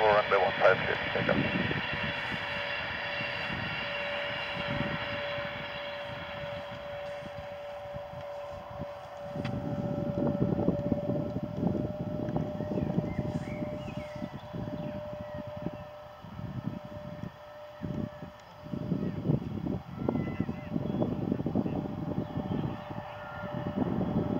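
A Lufthansa Airbus A320neo departing from Birmingham airport, a broad jet roar that swells and holds at a distance, overlaid with radio chatter from air traffic control.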